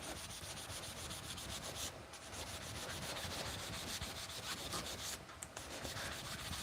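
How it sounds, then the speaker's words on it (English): Hand sanding with sandpaper: a steady, close, scratchy rubbing that runs without pause, with only brief dips in the stroke texture and no talking. "So I'm going to go with the sandpaper here."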